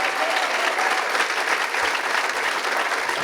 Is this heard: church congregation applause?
yes